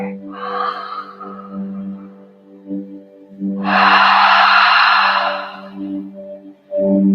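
Deep breathing in a relaxation class: a slow inhale followed by a long, loud airy exhale, then another breath starting, all close over a low steady background hum.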